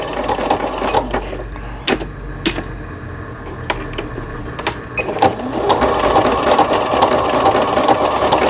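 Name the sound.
Singer 7640 sewing machine sewing a zigzag stitch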